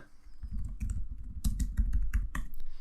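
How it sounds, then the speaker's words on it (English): A computer keyboard is typed on up close in quick irregular bursts of clicking keystrokes, a pip install command entered in a terminal, with no talking. "The way to install it is just typing pip install TweetPy."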